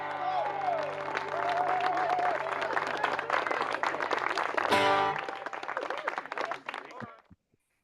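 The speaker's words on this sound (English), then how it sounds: "Everybody is applauding you" Sustained applause from an evening open-house audience, dense steady clapping with some crowd noise that fades out after about seven seconds; a voice speaks briefly over the clapping.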